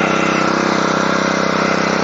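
A Honda F300 power weeder with a Honda GX engine runs at a steady, close, even drone with no one talking over it.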